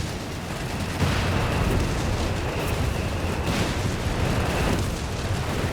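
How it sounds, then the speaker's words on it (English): Continuous heavy rumbling of distant artillery explosions in the video game Company of Heroes 3, dense booms blending into a loud roar with no speech. "Artillery, explosions, grenades, you name it."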